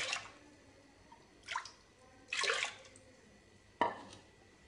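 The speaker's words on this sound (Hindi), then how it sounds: "इसी के अंदर पानी डाल करके" Water is poured in a few short splashy bursts, with pauses between pours, into a bowl of soaking lentils; close and fairly quiet.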